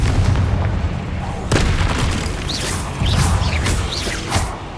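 Confringo fire-blast spell in Hogwarts Legacy: a loud rumbling boom with a sharp crack near the middle, followed by whooshing bursts and continued heavy rumble.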